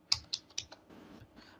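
Someone types an IFSC code on a computer keyboard in a quick, quiet burst: a few crisp keystrokes followed by softer tapping.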